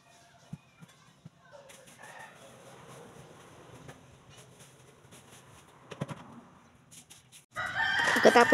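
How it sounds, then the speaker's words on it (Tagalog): Chickens crow and cluck in the background of a home while someone tidies up, faint scattered calls across a quiet room before a louder rush of noise at the end. "Pagpasensya nyo ng mga manok guys, pati sila nakikirecord sa akin."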